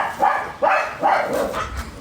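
A large dog barks in a few loud, rough bursts at close range, about three barks over a couple of seconds against a noisy background, with no talking.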